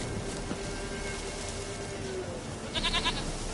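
A goat in The Witcher video game gives a short bleat near the end, rising briefly above a dense bed of game ambience with faint rain-like texture.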